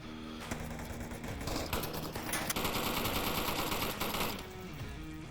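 Sustained automatic rifle fire in the VR shooter Onward, a dense rapid burst of shots lasting several seconds with a few brief pauses, fairly loud and close, no talking over it.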